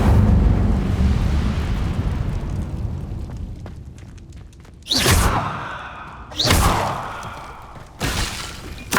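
Three whooshing bursts of the Incendio fire spell erupt in Hogwarts Legacy, each a sharp, loud roar that fades quickly. They come at uneven intervals over a low, rumbling background.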